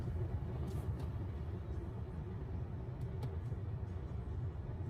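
Steady road traffic rumbles along a coastal road in Florida near Sarasota, a dense continuous wash of car noise with no breaks and no talking.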